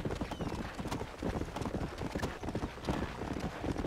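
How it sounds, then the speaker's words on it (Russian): Hoofbeats of a horse galloping off in Red Dead Redemption, a fast steady clip-clop rhythm that stays loud and busy throughout, with a faint whinny-like cry mixed in. "Кажется, чел лошадь загнал. И она от него убежала."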